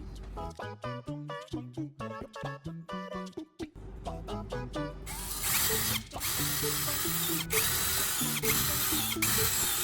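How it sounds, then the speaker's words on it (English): A power drill whirs in short bursts, its pitch rising and falling as screws are driven into a board, then runs in longer, grinding stretches. "we'll use a drill to install 4 screws"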